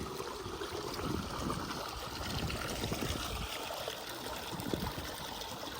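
Steady rushing and trickling of flowing canal irrigation water fills the whole stretch, a continuous moderate wash of moving water with no voices.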